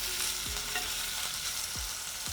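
Garlic cloves are stirred into a hot pot of egusi soup under a soft, constant sizzle, with a few low scraping strokes of the spoon close by and no voices.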